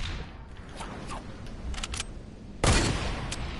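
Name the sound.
gunshot of a trick shot in a video game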